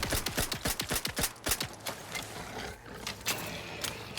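Rapid gunfire at rats in The Outer Worlds 2: a quick burst of sharp, close shots in a steady rhythm for about two seconds, then a few scattered shots before the shooting stops amid low game ambience.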